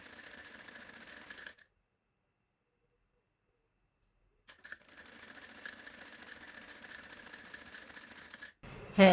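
An electric sewing machine runs in fast, steady bursts while stitching thin seams on baby frock fabric, joining one cloth piece to another; a loud run, a pause of about three seconds, then another long run that stops abruptly.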